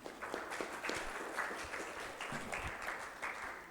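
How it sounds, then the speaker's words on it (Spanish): Audience applause greeting a female neurologist invited to speak on functional neurological disorder and the biopsychosocial model, steady moderate clapping from a hall of listeners, continuous and fairly even without voices. "La recibimos con un fuerte aplauso."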